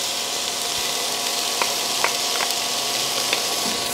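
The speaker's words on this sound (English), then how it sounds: "Now I'm adding the garlic." Garlic sizzling in a hot pan for Filipino pork guisantes, a steady bright fry with a few sharper crackles and pops rising through the hiss, close and continuous, no talking.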